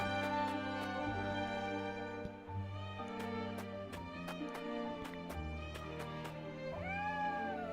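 Cat meowing in the video game Triangle Strategy, a couple of short, clear meows amid steady orchestral game music and crisp tapping sounds, moderately loud and without speech.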